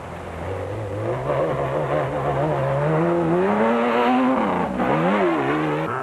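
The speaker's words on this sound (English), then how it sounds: "The big 4-litre was sounding full of grunt." A 4-litre Ford Ranger race truck engine revs loudly and close during an off-road race, its pitch climbing steadily through the gears, peaking, then dipping and rising again in a continuous roar with no talk.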